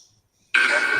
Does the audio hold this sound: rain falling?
no